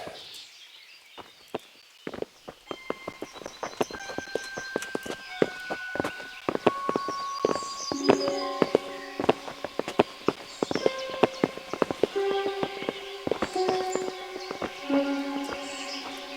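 Horses walk in the medieval video game Kingdom Come: Deliverance, their hooves clip-clopping in an uneven rhythm of steps that grows busier over time, heard alongside sustained musical tones.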